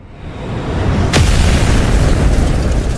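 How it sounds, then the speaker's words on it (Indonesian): A big explosion as a meteor-like object strikes the ground of a palace square: a sharp, loud crack followed by a sustained, heavy rumbling roar that fills the rest of the moment. "Sebuah ledakan besar terjadi ketika benda mirip meteor itu menyentuh tanah alun-alun."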